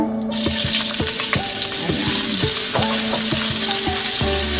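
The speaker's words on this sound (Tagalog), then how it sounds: "So, fry the ginger." Ginger frying in a pan of hot oil for a seafood coconut curry, starting with a sudden loud hissing sizzle that stays strong and continuous, with utensil scrapes and stirring clatter on top.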